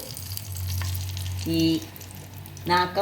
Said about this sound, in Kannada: ಒಳ್ಳೆ ಎಣ್ಣೆಯಲ್ಲಿ ಫ್ರೈ ಮಾಡ್ಕೊಳ್ಬೇಕು ಈ ಮಸಾಲೆಯನ್ನು